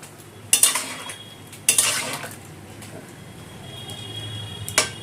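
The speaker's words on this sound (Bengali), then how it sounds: "হলুদ গুঁড়োটা ডাল আর সবজির সাথে মিশিয়ে নেব।" Turmeric is stirred into lentils and vegetables in a pot for a Bengali vegetable dal, giving a few sharp spoon clinks and scrapes against the pot, spaced apart over a quiet background with no talking.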